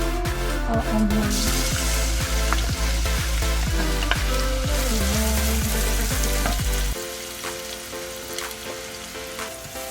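Onions or shallots frying in hot oil for a chili garlic oil, a loud, steady, crackling sizzle that runs for about seven seconds before dropping to a quieter simmer.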